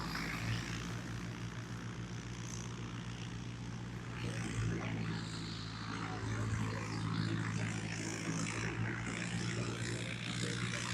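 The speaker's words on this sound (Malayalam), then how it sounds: "നമ്മുടെ അടുത്ത എയർക്രാഫ്റ്റ് പോകുന്നു" A small propeller aircraft takes off across a grass airfield at a flying academy, its engine droning and building steadily at a moderate distance, joined by faint background sounds.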